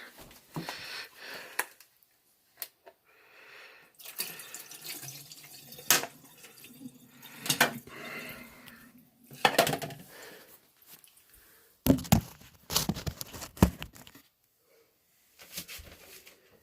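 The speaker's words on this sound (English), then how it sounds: "rinse out this container that I used for the water" Water from a tap splashes and runs as a small container used for art water is rinsed out at a sink, in several short bursts separated by pauses, fairly close and moderate in level with no talking.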